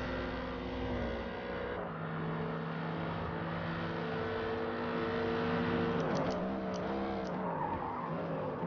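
A Mercedes-AMG and a Dodge Viper race wheel to wheel at Hockenheim in a Forza racing game, engines droning loudly and steadily with tire squeal and skidding as the cars bump over the kerbs.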